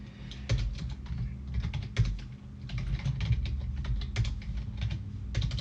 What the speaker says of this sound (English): Oh man, my typing is terrible